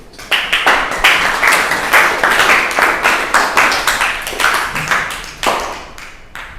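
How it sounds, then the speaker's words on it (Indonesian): Classroom applause at the end of a lesson, with steady, loud, close clapping from many hands that continues for several seconds and then fades slightly. "Aplaus dulu."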